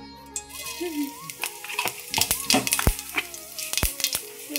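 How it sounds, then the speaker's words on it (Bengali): Cumin seeds sizzle in hot white oil in a kadai, giving a loud, close crackle with sharp popping bursts as they are stirred. A voice is faintly heard at the start. "তেল গরম হয়ে গেছে, এখন দিব একটু আমি জিরা"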